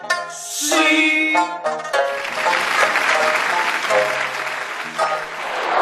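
An audience at a Suzhou Pingtan storytelling and ballad performance claps warmly and steadily. The applause starts just as the last plucked string notes ring out and continues loud and even to the end.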